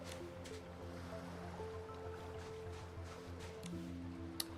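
Gentle ocean waves wash onto a video game beach, a soft steady surf hiss under quiet sustained music tones, with a few faint splashy swells.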